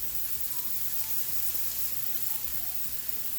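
Diced onions and minced garlic sizzle in a pan, a steady close hiss of frying that runs without a break and has no talk over it.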